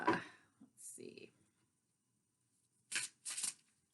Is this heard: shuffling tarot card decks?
yes